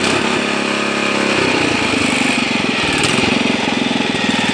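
A motoculteur two-wheel tractor engine is revved up from a steady idle, its loud close chugging rising in pace and intensity partway through.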